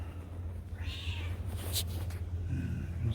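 A feral cat meows near the camera before being fed on a rainy day, giving a few drawn-out meows over a steady low background hum.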